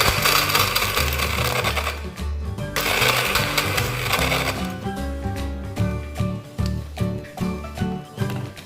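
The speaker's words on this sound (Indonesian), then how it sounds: "Pertama-tama es batunya dihancurin dulu pakai blender." A blender crushes ice cubes with water, loud grinding and rattling chunks at first, then a steadier motor whir with rhythmic pulses as the ice breaks down, close and without talk.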